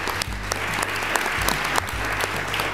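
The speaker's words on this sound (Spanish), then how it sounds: "daros un aplauso a vosotros mismos porque estáis aquí" Audience applause for schoolchildren at a bookmark contest award ceremony, a dense steady clapping wash that holds throughout, with faint voices underneath.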